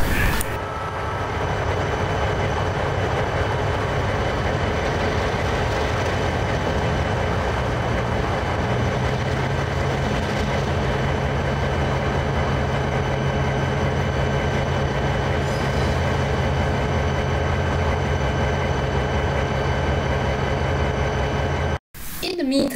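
Model railroad engines running steadily on a layout, a continuous near rumble of wheels and motors throughout with a faint voice underneath, ending in a brief cutoff.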